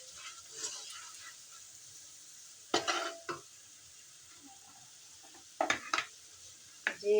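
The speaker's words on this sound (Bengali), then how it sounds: "লবণ দিয়ে দেব, হলুদের গুঁড়া দিয়ে দেব, দিয়ে এবার কষিয়ে নেব।" Spices being stirred and sautéed in a pan with salt and turmeric for a lentil dish with bottle gourd greens: a faint steady sizzle broken by a few louder scraping stir strokes near the end, with no talking.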